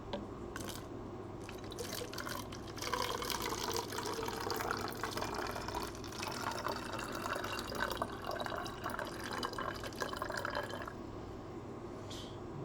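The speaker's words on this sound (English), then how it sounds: "let's begin by filling up the clear container or bottle, about 1/4 of the way with water" Water pours into a clear bottle, filling it about a quarter of the way, with a steady broadband splashing rush lasting around ten seconds at moderate, close volume, with no talking.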